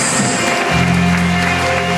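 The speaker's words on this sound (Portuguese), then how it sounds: "Vamos aplaudir o Senhor Jesus. Bem forte." A church congregation claps loudly and continuously in a steady patter, with sustained musical tones ringing underneath.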